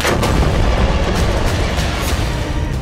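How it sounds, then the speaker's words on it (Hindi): Continuous heavy explosions and booming blasts from bombing in Gaza, a loud dense roar with repeated sharp bursts and no pauses. "गाजा पर लगातार बम मारे जा रहा है"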